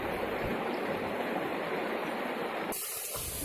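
Continuous hissing rush of a babbling stream near Toya waterfall in Aikmel, Lombok, steady and close, with no voices, cutting to a quieter tone near the end.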